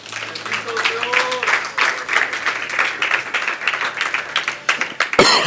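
A congregation in church claps, with loose, uneven clapping and scattered voices calling out, and a sharp louder hit near the end.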